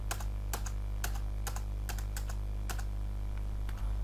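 Keys clatter on a computer keyboard in a quiet room, including an Enter press, while pasting text into MS Word for an SEO exercise; about a dozen sharp clicks come in quick bursts over a steady low hum.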